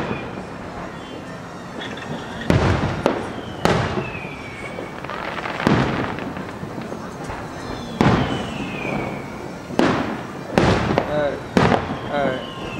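Fireworks at the 2009 Valley Stream show burst in a series of booms and crackles of varying strength, some distant and some close, over a steady crowd murmur with people talking nearby.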